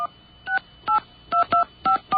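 Touch-tone keys are dialed on a telephone to reach a train schedule line: about seven crisp, evenly spaced beeps, loud and clear with no talking.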